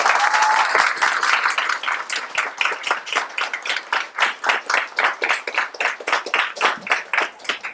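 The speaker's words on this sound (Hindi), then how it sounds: "आपके लिए जोरदार तालियां है" Enthusiastic applause from a theatre audience at a Hindi play, many hands clapping in a dense burst that settles into a steadier rhythmic clap before fading.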